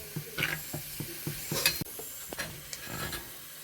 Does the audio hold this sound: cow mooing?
no